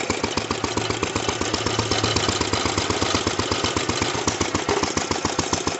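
A 1937 International tractor fitted with a lawnmower engine, driving in third gear, with a loud, close, rapid chugging engine putter that stays steady and unbroken.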